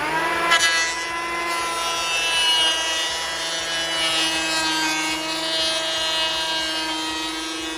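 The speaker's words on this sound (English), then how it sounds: "because they're a bit rough, we're going to plane those." An electric planer runs continuously over rough second-hand timber beams for a pergola build, a loud, steady whining roar with a sharp start and no speech.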